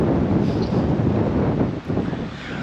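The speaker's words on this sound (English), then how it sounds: "it's really windy down here on the coastline" Strong wind gusts along a coastline buffet the microphone, producing a steady, loud rumbling roar with brief dips, and no voices are present.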